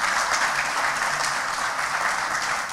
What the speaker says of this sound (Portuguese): eu gostaria de uma salva de palmas para o nosso brigadeiro